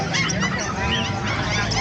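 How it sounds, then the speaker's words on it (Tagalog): Loud, close honking from several birds at an animal market in Bocaue, Bulacan, overlapping in a continuous noisy chorus with harsh nasal calls. "May mga ibon dito."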